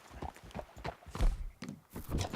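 Horse hooves clip-clop in a steady walking rhythm in the Red Dead Redemption 2 video game, fairly close and moderate in loudness, with no talk over them.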